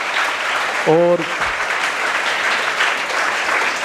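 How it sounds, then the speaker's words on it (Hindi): A live audience applauding, a dense continuous wash of clapping that fills the whole stretch, with a brief voice breaking in near the start. "जोरदार ताली एक बार दिव्या के लिए यहाँ पर हो जाए"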